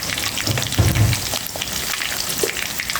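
Fish pieces with ginger-garlic paste, turmeric and chili powder frying and being stirred in a pan, a steady close sizzle with a few louder scrapes early on.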